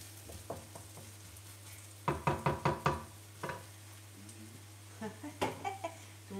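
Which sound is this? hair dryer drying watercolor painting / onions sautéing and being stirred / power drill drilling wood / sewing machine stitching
onions sautéing and being stirred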